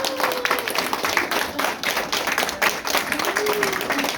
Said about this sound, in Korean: 우리 모두가 큰 박수로 네. 박수와 함성으로 한번 정리해 주시다